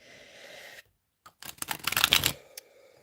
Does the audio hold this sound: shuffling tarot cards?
yes